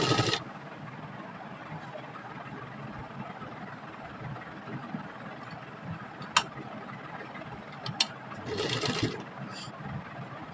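A sewing machine stitches fabric strips for trousers in a steady, low mechanical hum, fairly faint and continuous, with a few brief clicks and a slight rise near the end.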